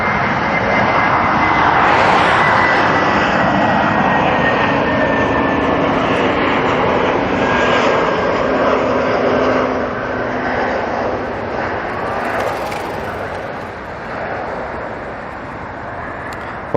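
A passenger jet passes close by near the Polderbaan runway at Amsterdam, its loud, broad engine roar steady at first and then slowly fading.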